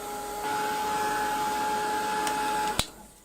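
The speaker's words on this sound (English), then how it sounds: "I'm just going to use my heat gun to get rid of them." A heat gun blows across acrylic craft work to clear hot glue strands, a steady close whooshing whine that cuts off with a sharp click near the end, no talk.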